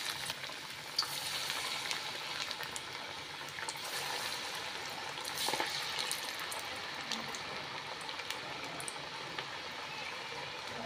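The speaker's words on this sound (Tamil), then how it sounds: "மீடியம் ஃப்ளேமில் வச்சு பொரித்து எடுத்துக்கலாம்." Palak chickpea vadas fry in hot oil over a medium flame, giving a steady bubbling sizzle with scattered crackles and small pops throughout, fairly close and without speech.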